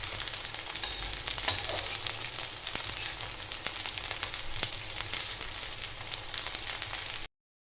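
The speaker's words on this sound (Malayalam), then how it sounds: "ചെറിയ ചെറിയ ഇങ്ങനെ ഒരു പൊട്ടണ പോലത്തെ ഒരു ചെറിയ ശബ്ദം ഉണ്ടാവും" A homemade snack frying in hot oil, a steady close sizzle peppered with small, sharp popping crackles as the pieces puff up.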